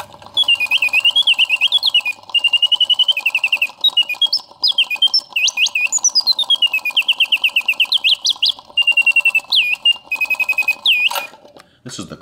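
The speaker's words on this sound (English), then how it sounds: "The bird sings with full voice, hitting all the proper oscillating notes." A vintage Karl Griesbaum mechanical singing bird box with a classic German red and black bird trills and warbles loudly and close, in rapid repeated chirping bursts with swooping notes, running uninterrupted to the end.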